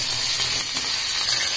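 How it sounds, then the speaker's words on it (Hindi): Mustard seeds and curry leaves sizzling in a teaspoon of hot oil for a South Indian coconut chutney tadka, a loud, steady crackling hiss up close. "एक टीस्पून तेल हमने गरम कर लिया है, उसमें राई डाल दी है, कुछ करी लीव्स डाल देंगे"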